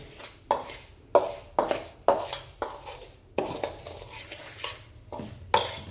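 Green chilli and lemon pickle being mixed in a bowl, a series of sharp spoon clinks and scraping stirs in an irregular rhythm, close and clear with no talk.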